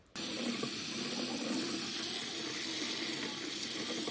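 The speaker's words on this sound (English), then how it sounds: "putting it in a colander and just rinsing it under the tap" Steady running tap water pours continuously over quinoa in a colander in a sink, a constant broadband rush from start to finish with no talking.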